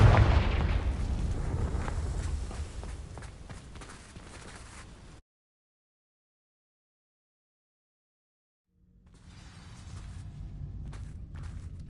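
In Hogwarts Legacy, a Confringo fire spell strikes dry vines and sets off a loud crackling, booming burst that fades into a few seconds of silence before softer ambient game sound returns.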